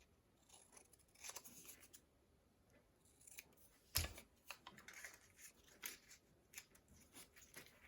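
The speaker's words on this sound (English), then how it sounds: "I'm going to cut this instead of tear it." Scissors cut through paper for a handmade mini envelope journal, with several close, sharp snips and one loud crisp cut midway, set against a quiet background.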